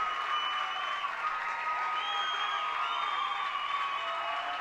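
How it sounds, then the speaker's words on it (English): Crowd in the stands at a high school state championship baseball game cheering and applauding after their team takes the lead, a sustained roar with whoops, fairly near and steady throughout. "High fives for everyone in the stands. Fist pumps, hugs, and cheering."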